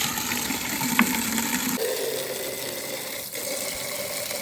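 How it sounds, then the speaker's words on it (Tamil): Water poured into a container holding about half a kilo of salt to dissolve it: a continuous close gushing and filling sound, fairly even throughout, with no talk. "இதுக்குள்ளே வந்து ஒரு அரைவாசிக்கு தண்ணி எடுத்து இந்த உப்பை நல்லா கரைக்க போகிறேன்"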